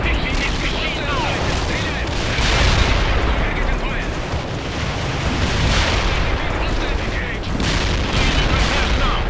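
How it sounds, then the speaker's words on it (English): Artillery fire and heavy explosions roll on continuously in the real-time strategy game World in Conflict, a dense, loud wall of booms with repeated swells and crackling blasts throughout. "Artillery, rolling."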